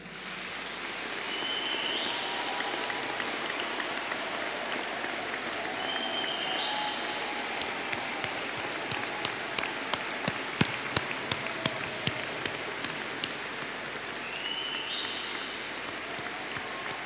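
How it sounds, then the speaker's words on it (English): A crowd at a Faculty of Business and Hospitality graduation ceremony breaks into sustained, even applause that fills the hall for a long stretch, with a few sharper, closer claps standing out midway. "So please, a big round of applause."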